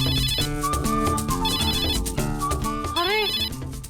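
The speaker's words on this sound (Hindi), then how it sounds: "का फोन आ रहा है" A mobile phone's ringtone plays loud and close for an incoming call, a repeating electronic melody of bright tones that rises in pitch near the end and goes on without pause.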